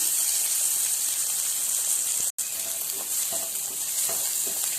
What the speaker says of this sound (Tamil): நல்லா இது வந்து அரோமா வர வரைக்கும் நம்ம ஃப்ரை பண்ணணும்